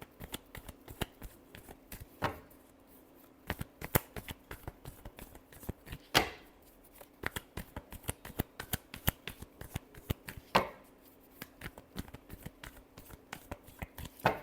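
Tarot cards are shuffled by hand, giving a long run of crisp, irregular clicks and flutters close up, with a few louder riffles along the way.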